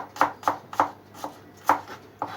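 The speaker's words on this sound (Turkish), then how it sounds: "Şu anda soğanlarımızı jülyen jülyen, jülyen doğruyoruz" Onions are sliced julienne with a knife on a board, six sharp chops in an irregular rhythm, close and crisp against a quiet background with no talking.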